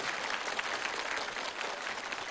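A studio audience at a French TV challenge show applauds the contestants, an even, continuous wash of clapping at moderate distance with no break.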